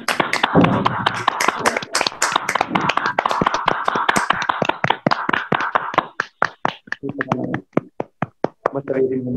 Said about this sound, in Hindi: please give her a big round of applause to sister Urmil